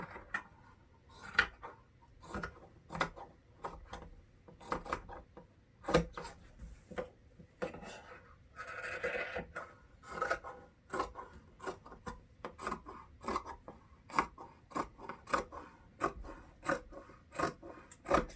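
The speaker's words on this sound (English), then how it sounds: "what we're going to do now is cut along that basting line" Scissors snip through fabric along a basting line to cut out a hat shape, making a string of crisp, close cutting crunches and rasps with short pauses, fairly quiet against a still background.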